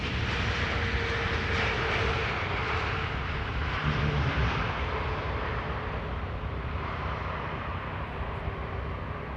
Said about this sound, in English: And here we have TAP Air Portugal landing. It's flight 668 arriving from Lisbon. A320neo.